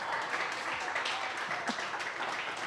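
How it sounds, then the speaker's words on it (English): A comedy club audience applauding a stand-up set, a sustained wash of many hands clapping that holds steady for a few seconds, heard from within the crowd. "I love that that's the thing that you guys clapped at"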